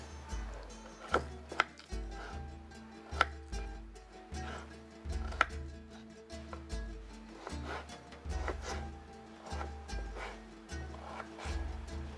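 A knife chops okra on a cutting board in a home kitchen, with firm, fairly regular knocks in an uneven rhythm over about twelve seconds, close and clear with no talking.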